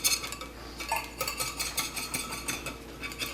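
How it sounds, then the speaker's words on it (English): A metal knife scrapes around the edges of a tres leches cake in its pan, giving a steady, close scraping and clinking against the pan without pause. "now I'm going to make sure I separate with a knife"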